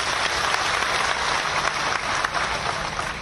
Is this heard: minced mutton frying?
no